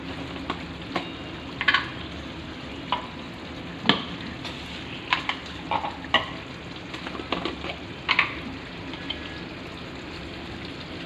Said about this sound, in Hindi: इसमें मैं ऐड करूँगी थोड़ा सा ज़ीरा